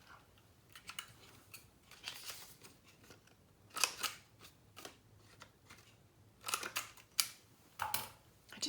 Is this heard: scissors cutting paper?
yes